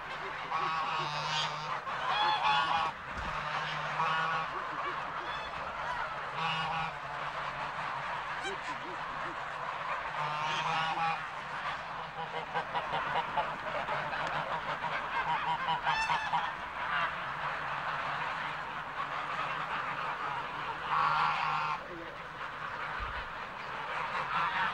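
A large flock of about 600 farm geese honks continuously nearby, overlapping calls rising and falling with occasional louder bursts, while people talk underneath.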